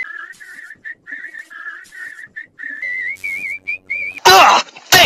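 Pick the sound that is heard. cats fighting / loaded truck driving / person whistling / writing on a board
person whistling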